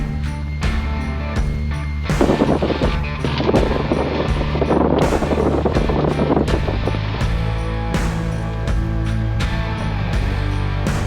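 A Piper Dakota single-engine airplane runs its engine at high power on the takeoff roll, a loud steady drone with wind buffeting, close and continuous without talk.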